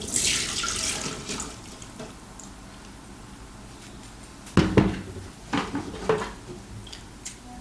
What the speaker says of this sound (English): Drain away the water.